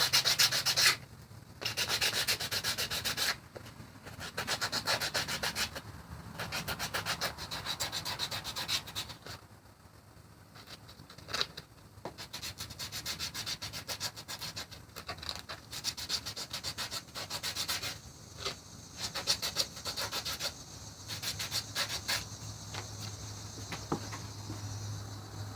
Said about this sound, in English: I'm roughing this up, making it smoother just by rubbing it against the sandpaper